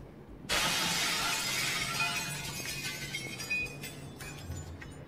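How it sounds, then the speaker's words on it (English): A glass shattering sound effect: one sudden loud burst of breaking glass followed by several seconds of tinkling, scattering shards, with no voices. "you can create a glass breaking too"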